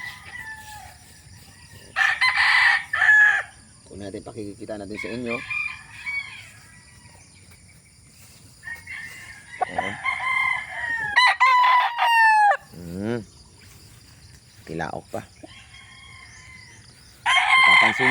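A brood rooster crows loudly several times, close by, with clucking in between while someone talks.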